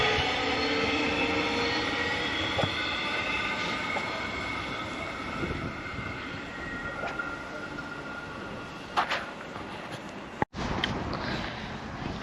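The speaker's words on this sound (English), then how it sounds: "I just got off my Mernda Line train at Regent Station" A Mernda Line train at Regent Station in Melbourne hums and rumbles steadily near the platform, with faint squeals, a few clicks and a sharp knock near the end.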